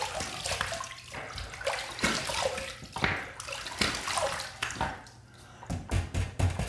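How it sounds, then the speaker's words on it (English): Water splashed onto a face by hand at a running sink before a shave, repeated close splashes and drips in uneven bursts over a steady flow of tap water, with no talking. "I'm gonna go ahead and wet my face."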